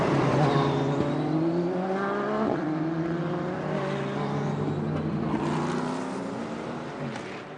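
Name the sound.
race cars at the 2002 24 Hours of Le Mans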